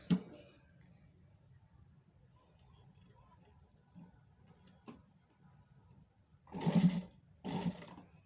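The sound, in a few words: sewing machine joining the seam of a high neck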